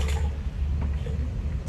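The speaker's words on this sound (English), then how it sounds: "do one more toilet flush to make sure that there isn't more of that stuff" A residential toilet flushing to clear a stubborn chunk of glue from the pipes, a steady close rushing of water that fills the whole moment without pause and with no talk over it.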